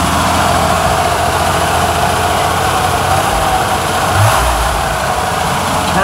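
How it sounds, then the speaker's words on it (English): A 1963 Chevrolet Corvair air-cooled engine with very low mileage idles steadily and continuously, a dense, even rumble that stays close and loud throughout, with no voices. "And you are listening to a Corvair that's probably been started less in its lifetime than most Corvairs in a week."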